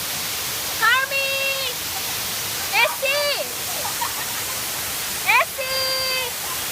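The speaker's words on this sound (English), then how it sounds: "The water is so loud." Loud rushing water at Bato Springs, a constant roaring hiss like heavy rain throughout, with three loud shouted calls rising over it.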